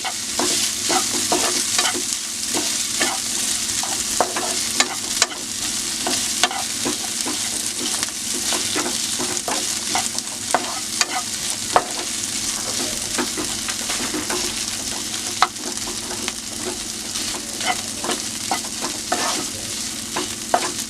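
Bread pakora masala of vegetables with turmeric and salt being stirred and sautéed in a pan, a steady loud sizzle with rapid scraping strokes of the spoon throughout and no talking.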